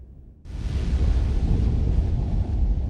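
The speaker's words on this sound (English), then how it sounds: "The storm is getting worse." Howling storm wind in the sci-fi game Star Trek: Resurgence, rising suddenly from a low rumble into a loud, steady roar with a dense low-end blast that persists without a break.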